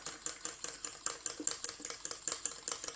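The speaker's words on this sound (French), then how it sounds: "Je vais mettre mon eau petit à petit" Water trickled gradually into oil for a homemade moisturizing body cream while it is whisked, giving a quiet, steady run of rapid clicking stir strokes close by, with no talk.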